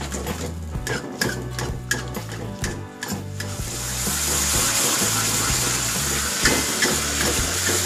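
Ground spice paste frying in hot oil, a loud continuous sizzle with stirring and scraping up close, the sizzle swelling and steadying midway through.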